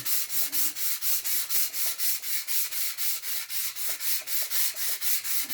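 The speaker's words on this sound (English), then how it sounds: "this is just a final finish to get that really smooth wood. So sand with the grain." Wood is hand-sanded with 600 grit sandpaper along the grain in an even rhythm of about three close, raspy strokes per second, continuing steadily without any talk.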